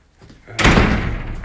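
An artist's studio door shuts with a heavy single slam after a brief rustle, loud and close, with a short reverberant tail.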